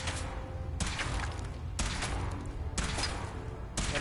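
Four loud, evenly spaced gunshots from a weapon being test-fired in Fallout 4, each a sharp broadband crack followed by a long ringing decay, with no voices over them.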